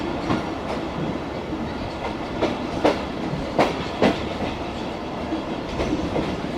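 Tezgam passenger train rolling along the track at restricted speed, a steady rumble with a series of sharp rhythmic wheel clacks over rail joints, close and alone without voices.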